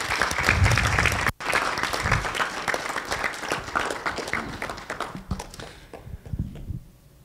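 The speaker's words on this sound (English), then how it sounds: "Big claps." An audience applauds with sustained, dense clapping that briefly cuts out, then resumes and gradually thins and fades toward the end.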